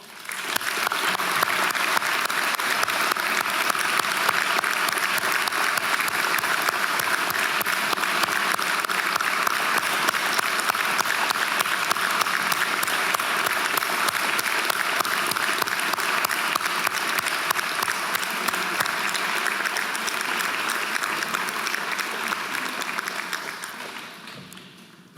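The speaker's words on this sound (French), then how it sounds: "je vous propose de sacrifier un autre rituel que nous adoptons pour rendre hommage à nos disparus, une minute d'applaudissements." A minute of applause in a university law faculty hall for the opening ceremony, honoring the deceased; sustained, dense clapping from a large audience, steady for over twenty seconds before fading out.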